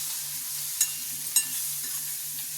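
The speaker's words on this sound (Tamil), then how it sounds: "இப்போ வடிகட்டி இருந்த சக்கரவள்ளி கிழங்கு எடுத்து அதில் போட்டுப்போம். நல்லா இப்போ இதை கலந்து விட்டுப்போம்." Sweet potato being stirred into tempered spices in a hot pan, a soft continuous sizzle with two distinct scraping clinks of a spoon against the pan.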